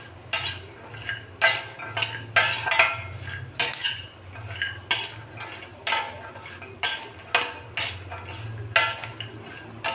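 Dry fruits are stirred and roasted in ghee in a pan for gond laddu, with a steady rhythm of loud metal spoon scrapes against the pan every second or so over a faint sizzle.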